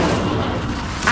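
An Incendio fire spell is cast in the video game Hogwarts Legacy, a dense, steady whooshing rush lasting about a second that swells briefly near the end.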